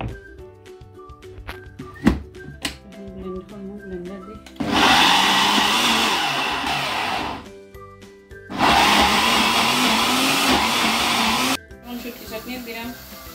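A kitchen blender grinds dried fish chutney in two loud, sustained whirring bursts of about four and three seconds, separated by quieter gaps with clunks and knocks from handling the jar.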